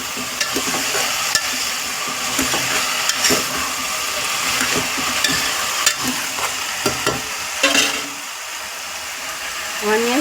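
Onions tipped into potatoes already frying in a pan, a steady close sizzle with stirring scrapes and brief clatters running throughout the clip.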